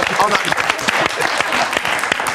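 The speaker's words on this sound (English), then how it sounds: "I want to give that a round of applause." A television studio audience gives a short round of applause, dense clapping mixed with voices and laughter throughout.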